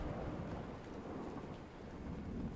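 In the video game A Way Out, a thunderstorm rumbles with steady rain, giving a dense, continuous low roar of thunder under hissing rainfall. It holds at an even level throughout with no voices.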